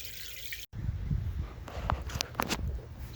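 A small splash of water poured into an aquarium, a brief trickle and a few drips heard close up over a low background hum, with no talk.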